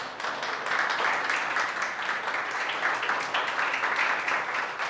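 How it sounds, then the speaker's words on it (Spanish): A church congregation claps in steady, dense applause that rises quickly and holds at an even level throughout. "Dale un aplauso a Dios por eso."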